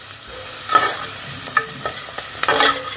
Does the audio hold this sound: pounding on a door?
no